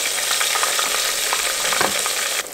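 Smashed green plantain slices for Colombian patacones sizzle and crackle steadily in hot oil, a loud, dense frying hiss with scattered pops that drops off abruptly near the end.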